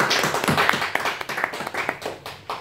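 Congregation clapping together during a Korean church Sunday service, a brisk run of sharp claps, close and fairly loud, tapering into scattered claps toward the end.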